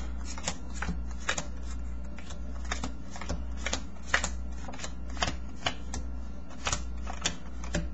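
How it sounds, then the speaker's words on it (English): Playing cards dealt one at a time into piles on a table, a steady series of soft snapping flicks about every half second, close and alone. "they just deal out the cards just like that"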